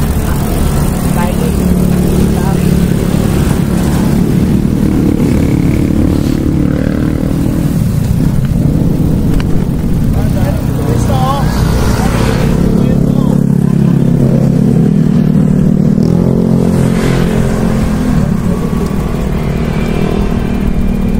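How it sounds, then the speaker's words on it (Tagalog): Motorcycle engines rumble and drone steadily as they ride past, with people talking and calling out over the traffic noise. "Mga motor na yan."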